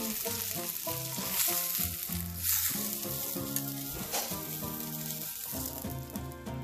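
Leftover rice and sausage fry together in a pan for sausage sinangag, giving a steady sizzle with a stirring motion, partly masked by background music playing throughout.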